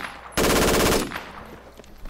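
A burst of automatic gunfire in the military shooter Project Reality, a loud rapid rattle of about half a second, then a fading echo and quieter distant shots.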